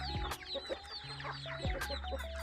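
Chickens inside a coop cluck and squawk in overlapping bursts, several birds close by calling irregularly throughout.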